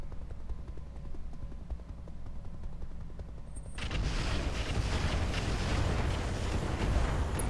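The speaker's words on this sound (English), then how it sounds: "What was that explosion?" An explosion in the mech combat game Roguetech bursts in partway through, a sudden dense roar that stays loud and broadband after a quieter stretch of rumbling engine and mechanical background.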